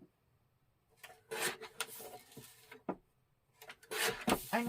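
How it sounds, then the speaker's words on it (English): A paper card with a white border trimmed by hand, heard as faint, close scraping and cutting strokes in short irregular bursts separated by near silence. "I have another card that I'm going to trim up here quick."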